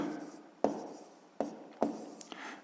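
Pen writing math on paper, a few distinct scratchy strokes with short pauses between them, close and quiet, no voice.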